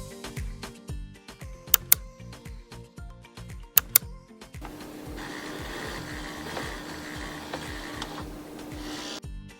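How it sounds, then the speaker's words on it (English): A refrigerator clicking while its ice maker water reservoir refills: sharp, separate ticks at the start, then a steady hum takes over, close and without speech. "you might hear clicking or humming sounds as the fridge allows water to refill its reservoir."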